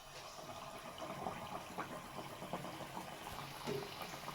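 Ragi flour boorelu batter frying in hot oil, a steady dense sizzle and bubbling with small crackles and pops throughout, close and continuous with no talking.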